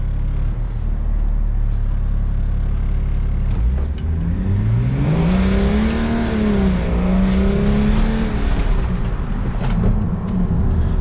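A Toyota FJ75 Troopcarrier with a 300 hp M57 diesel swap accelerates hard, its loud steady engine roar rising and wavering in pitch through the gears, close and continuous.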